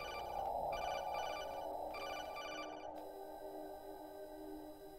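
In Metal Gear Solid 2, a phone rings in repeated electronic trilling bursts over a steady low in-game hum, fairly quiet and with no talking.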